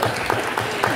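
An audience at a talk applauds, dense clapping at steady loudness throughout the short burst, with no voices on top.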